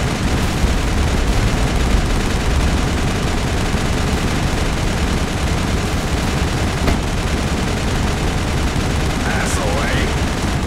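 Sustained, dense gunfire from an upgraded weapon in the Mass Effect Pinnacle Station combat simulator, firing loudly and without pause for the whole stretch, with a few spoken words from a speaker partway through.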